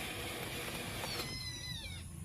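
Stray cats meow while they eat, a short, fairly loud cat cry heard close up over a dense, noisy background.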